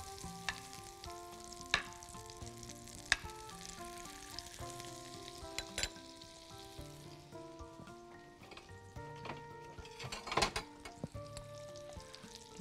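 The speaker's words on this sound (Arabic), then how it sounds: "هنعصج اللحمه عادي، هنقلب الاول البصل شويه" Meat and onions sautéing in butter, turned with a spatula, make a faint crackling sizzle with scattered scrapes and taps, beneath quiet background music.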